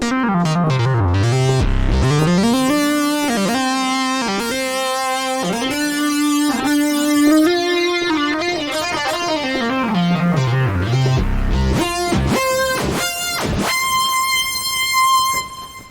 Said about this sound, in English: You also have lead sounds, again on the Minimoog.